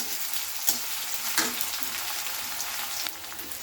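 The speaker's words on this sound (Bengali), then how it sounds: "পেঁয়াজটাও দিয়ে দিচ্ছি মারিয়ে দিচ্ছি আমি ভালো করে একটু লাল করে নিতে হবে এটা" Chopped onions fry for dal in a pan, a steady bright sizzle running throughout with a few sharper spits and crackles, close and fairly loud, no voices.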